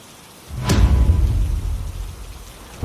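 A cartoon rain sound effect: a loud, steady downpour starts abruptly with a sharp crack and keeps up a dense, even hiss.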